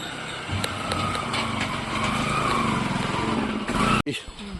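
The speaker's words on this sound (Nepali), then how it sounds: "मोटरसाइकलहरू यसरी झोलुङ्गे पुलबाट पार गर्नुपर्ने हुन्छ।" A motorcycle engine runs steadily while crossing an old, rusty single-plank suspension bridge patched with bamboo over the Sunkoshi river in the hills, a close, continuous drone that cuts off abruptly near the end.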